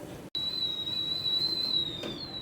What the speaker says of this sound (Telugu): ఇది విజిల్ సౌండ్ వచ్చే వరకు